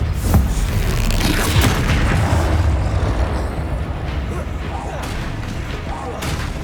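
Bombarda explosion spell in Hogwarts Legacy, a heavy booming blast early on that trails into a long rumbling wash of game noise, with a voice partly over it.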